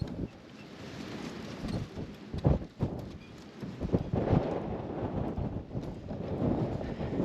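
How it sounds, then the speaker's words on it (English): A strong windstorm at Lake Powell buffets the microphone with a steady roaring rush, and heavier gusts thump and crackle through it. "This wind is just whipping."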